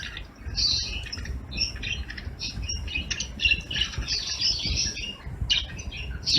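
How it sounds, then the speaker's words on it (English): A flock of birds squawks and chirps busily while feeding near a window on a winter morning in Navadvip, India. The calls are close and come in overlapping bursts over soft background rustling. "During winter morning, the birds having their breakfast"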